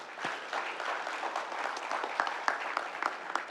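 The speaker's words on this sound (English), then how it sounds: "we can clap for that" Audience clapping at a police department awards ceremony, a steady burst of many hands applauding together for a few seconds, moderately close with no speech over it.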